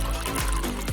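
Water pours out of a swirled jug or bottle, a close, loud, continuous gush with a trickling texture and brief dips, with no talk.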